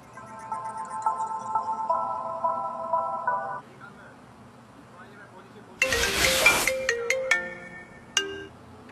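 A melodic phone ringtone plays a repeating tune, pauses, then a louder, brighter ringtone pattern follows with a sharp burst at the start.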